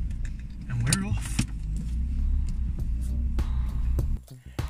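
A BMW E46 320i saloon pulls away with a steady low engine drone and road rumble, accompanied by brief jingling and rattles from inside the cabin, ending with a sudden drop.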